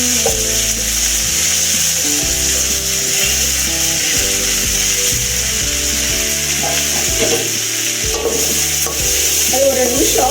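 Drumstick leaves frying in a pan and being stirred, loud continuous sizzle with scraping stirs growing busier toward the end, under background music and without talk.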